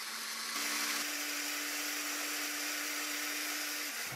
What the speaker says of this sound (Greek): Βάζουμε στο μπλέντερ για να γίνει πολτός και πετάμε τα ζουμιά.